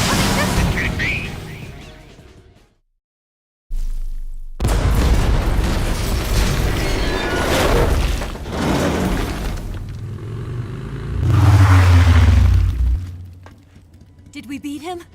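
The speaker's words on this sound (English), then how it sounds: "Incoming missiles." Incoming missiles exploding in the video game Metal Gear Solid Delta, a series of loud, heavy booms and bursts with low rumble, one deep blast building near the end, mixed with speech.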